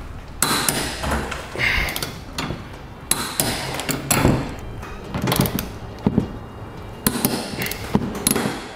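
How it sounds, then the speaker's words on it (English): Sharp metallic clicks and knocks in uneven bursts as a torque wrench tightens Curt trailer hitch bolts on a 2016 Jeep Renegade, close and fairly loud, with brief pauses between groups of strikes and no speech. "we can torque it to the amount specified in the instructions"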